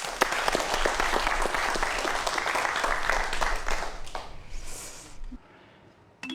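An audience in a lecture hall claps for a professor taking the stage, with dense, lively applause that thins and fades out near the end.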